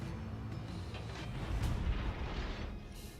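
Ship cannons fire a volley in a naval video game, a dense rumbling boom that swells midway and lingers as a low, continuous roar with no talk over it.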